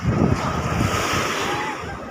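Sea surf washes onto the beach at Alappuzha in a loud, continuous rush of churning water, with wind buffeting the microphone throughout the short stretch.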